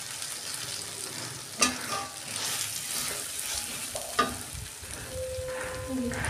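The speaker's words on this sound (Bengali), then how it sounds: "দিয়ে একটু কষে নিচ্ছি" Prawns sautéing in a pan for a Bengali chingri malaikari, steady close sizzle with a couple of sharp clanks from a stirring utensil and brief stir scrapes, before coconut milk goes in.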